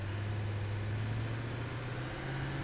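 A tractor in the factory-building game Satisfactory drives with a steady, loud low engine drone that holds evenly throughout.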